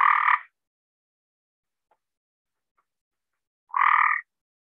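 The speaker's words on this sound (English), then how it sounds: "Now, this is what the Cope's gray tree frog sounds like." A Cope's gray tree frog gives two short, loud buzzy trills, one at the start and one near the end, separated by silence.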